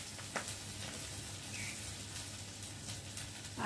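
Cumin frying in hot oil with onions, a soft continuous sizzle with a few faint stirring clicks, quiet and steady throughout.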